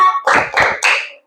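A classroom of students claps the 'tepuk hebat' chant together: three loud, tight bursts of group clapping in steady rhythm, close and full, followed by a short silence.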